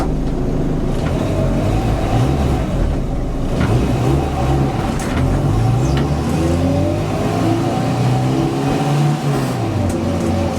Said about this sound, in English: Shifting up without clutch is basically, you gotta wait for the RPMs to drop, you'll go into that gear.